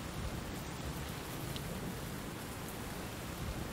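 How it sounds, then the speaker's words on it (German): Steady rain falls in the video game Road to Eden, a continuous close hiss with even loudness throughout and no voices. "Es regnet!"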